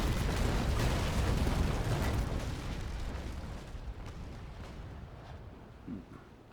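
Ship cannon fire in the Naval Action naval battle game, a heavy rumbling broadside of booms that is loudest at the start and gradually fades, with a last smaller thump near the end.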